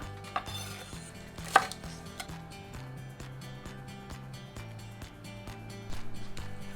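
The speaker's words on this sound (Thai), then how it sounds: "หั่นกระเทียมโดยเอาแกนด้านล่างออก" A knife chops garlic on a cutting board for a pan-cooked beef steak, a run of sharp, quick, regular taps close by, with a louder clatter early on and faster chopping near the end.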